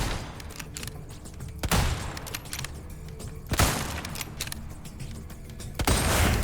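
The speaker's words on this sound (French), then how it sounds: "Tout double. Superbe tir. Remarquable." Guns firing at the shooting gallery in Resident Evil 4: a few sharp, loud shots spaced about two seconds apart, with fainter clicks and game noise between them.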